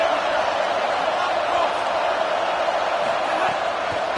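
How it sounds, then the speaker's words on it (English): A stadium crowd at a college football game between UCLA and Florida roars on third down, a loud, sustained wall of noise with no individual voices standing out. "Decibels rising as the crowd gets behind this defense on 3rd down."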